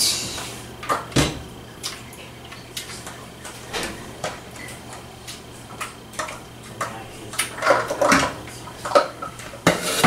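Jam is scraped out into a saucepan on medium heat: close, sharp utensil clicks and knocks against cookware arrive irregularly, growing busier and louder toward the end over a faint steady hum.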